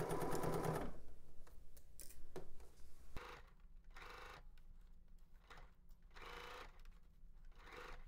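A sewing machine stitches across a shoulder seam, opening with a fast loud run of needle strokes, then slower, softer intermittent stitching with pauses, clicks and faint mechanical whir.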